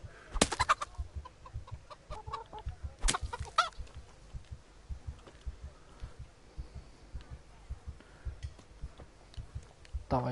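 Chickens cluck in Kingdom Come: Deliverance, a medieval open-world game, with sharp clucks and squawks near the start and around three seconds, then softer scattered clucking over faint ambient noise.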